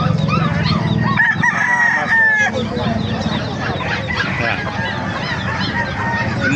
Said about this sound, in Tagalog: Malaking manok, oh.